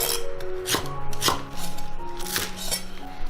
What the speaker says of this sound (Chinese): 再来切一些姜、蒜，还有葱